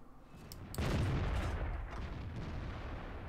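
A tank cannon in World of Tanks fires a round into an IS-2, a single sharp, loud boom that cuts in abruptly and then trails into a long rumbling decay under steady game background noise.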